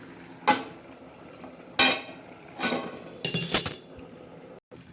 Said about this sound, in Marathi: तोपर्यंत आपण झाकण ठेवू